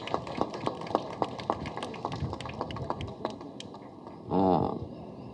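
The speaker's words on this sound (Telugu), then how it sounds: "అంటే చప్పట్లు కొట్టమని" A scattered audience claps unevenly at a Telugu film's first-look launch event for Fighter Raju, the individual claps sharp and fairly close, briefly joined by a short burst of voice near the end.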